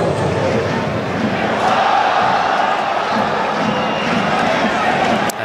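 A stadium crowd at the AIK versus Vorskla Poltava football match roars in a dense, sustained wash of voices and chants, loud and continuous throughout.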